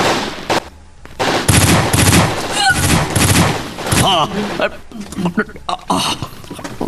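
Loud bursts of rapid gunfire erupt in a Filipino drama scene, crackling in several volleys with voices shouting in between.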